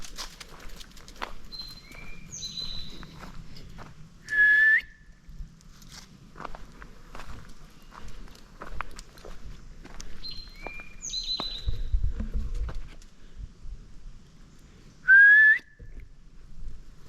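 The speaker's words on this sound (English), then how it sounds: "Something's whistling back at me." Out in the woods, something whistles back: pairs of brief, bright whistled notes recur a few seconds apart, fairly faint and distant, over soft footsteps and rustling on the trail.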